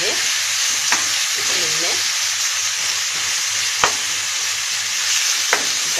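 Meat drops into a hot pan and sears with a loud, steady hissing sizzle, heard close, with a few sharp knocks of a utensil and a brief spoken word at the start.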